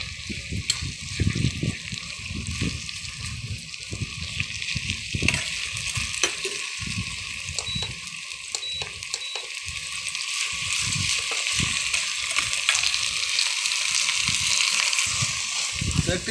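Chicken in yogurt is stir-fried in a pan, a close, steady sizzle broken by repeated scraping and stirring strokes that grow slightly louder over time, with occasional quiet talk.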